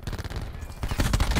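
Rapid bursts of gunfire in the Call of Duty: Black Ops 4 multiplayer video game, a dense run of overlapping shots that swells louder toward the end, with no voices over it.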